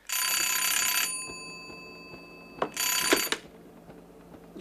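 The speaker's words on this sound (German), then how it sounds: "Alarm!" An electric alarm bell in an old comedy film set at a Foreign Legion fort rings loudly in one long burst, stops, then gives a second shorter burst, with no voices.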